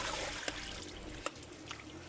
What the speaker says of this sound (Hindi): मैं ये आलू का पानी निकाल देता हूँ उसमें से।